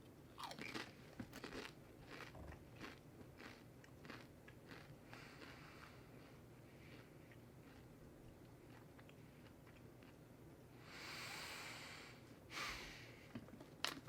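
Pringles potato chips being bitten and chewed close to the mic, with a few sharp crunches early on and a brief louder crunching burst near the end, all quiet, with no talking.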